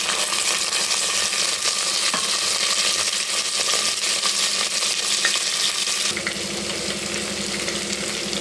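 Chopped onion and chilli frying in a pan, a loud, steady sizzle that runs the whole time with no voices, shifting slightly in tone near the end as the contents settle.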